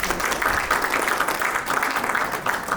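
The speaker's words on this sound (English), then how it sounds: "So big round of applause for Surinder." Steady, dense applause from a community gathering at Guru Ravidas Bhavan, many hands clapping together at an even, fairly loud level with no voices standing out.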